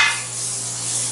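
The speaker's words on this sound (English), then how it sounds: "we're just going to keep stirring it and then literally cut a piece in half" Chicken fajita pieces seasoned with cumin and chili powder sizzle in a hot pan while being stirred, a brief, steady close-up hiss.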